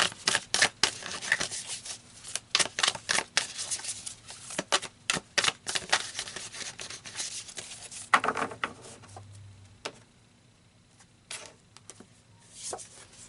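Tarot cards are shuffled by hand in quick, close, crisp riffling bursts, each separated by short pauses. The bursts die down to quieter handling near the end, with no talking.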